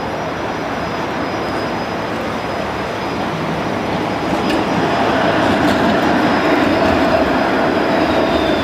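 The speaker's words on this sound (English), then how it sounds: "here comes a streetcar now" A Toronto streetcar rolls past on its rails in the street, a loud, steady roar with metallic rail rumble and a faint high squeal, swelling slightly as it draws nearest.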